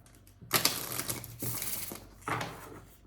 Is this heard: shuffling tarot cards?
yes